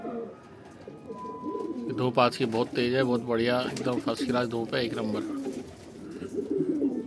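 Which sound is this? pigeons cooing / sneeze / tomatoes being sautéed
pigeons cooing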